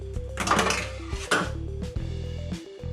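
A metal strainer is flipped over and tapped against a pot to knock out leftover tuna while making mac and cheese with tuna, giving several close, sharp clanks and knocks with short pauses between them.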